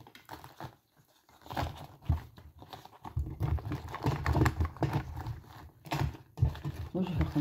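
Tarot cards are shuffled by hand in soft, quick riffling and crinkling bursts, close and fairly quiet, with someone talking intermittently in French.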